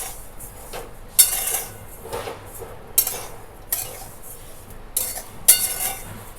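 A metal spoon scrapes and clinks against a pan while about 400 grams of salted fennel seeds are dry-roasted and stirred, giving regular rhythmic strokes roughly every second, close and clear with no talk.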